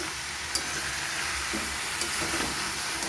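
Mixed vegetables with sugar, chili powder, turmeric and salt stirred in a pan, a soft continuous sizzle with a few faint utensil clicks and scrapes, quiet and without talk.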